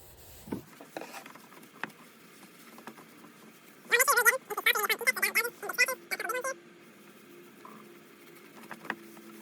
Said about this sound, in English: Just clean the base. Get all that dirt, grime, nasty stuff off of there.